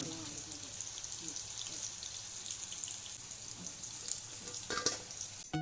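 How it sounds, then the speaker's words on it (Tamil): Chicken frying on a high flame until golden brown, with a steady broad sizzle running throughout and a few louder crackles and pops near the end. "இந்த அளவுக்கு நல்லா கோல்டன் ப்ரௌன் கலரில் வர வரைக்கும் நீங்கள் ஃப்ரை பண்ணிக்கோங்க"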